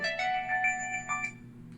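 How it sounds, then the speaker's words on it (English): An old-style phone ringtone plays as a bright tonal melody of several sustained notes, close and clear for over a second before fading into quiet room tone. "I ain't heard no phone ringtone like that in a long while"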